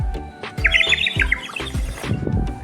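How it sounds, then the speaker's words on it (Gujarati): A water-filled clay whistle toy, a Harappan-style plaything, gives a rapid warbling, sparrow-like trill of chirps, loud and close, over soft low rhythmic knocking. "પાણી ભર્યું એટલે અવાજ આખો ચકલી જેવો."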